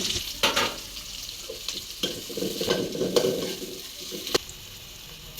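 Chopped onion and green chillies fry in a deep pot, giving a continuous close sizzle with irregular spoon scrapes and a few metallic knocks against the pot.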